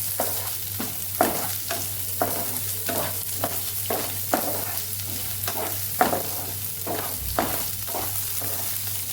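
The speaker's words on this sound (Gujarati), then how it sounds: "પછી ડુંગળી ઉમેરી દઈશું અને લીલા મરચાં અને આદુની પેસ્ટ ઉમેરી દઈશું એને પણ સરસ સાતડી લઈશું આપણે" Chana dal, onion, green chilies and ginger paste being sautéed in a pan, a steady sizzle broken by regular scraping stirs of a spoon, close and moderately loud, with no talking.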